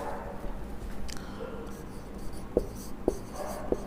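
Writing on a board during a chemistry lecture, with soft scratchy strokes and three sharp taps near the end, quiet and close, with no talking.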